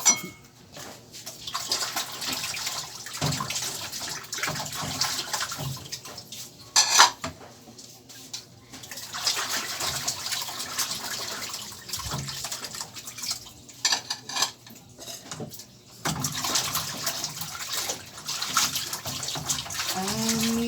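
Dishes and cutlery clatter under a running tap at a kitchen sink, water gushing in bursts with pauses between, close and fairly loud, with faint singing in the background.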